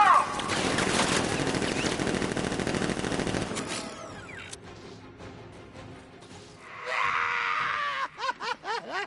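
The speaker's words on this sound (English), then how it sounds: "Open fire! Shoot everything!" Rapid automatic gunfire roars in a dense, loud barrage in a Batman video game, then breaks off into scattered shots and game effects, with a few short bursts near the end.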